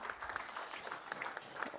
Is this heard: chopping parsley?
no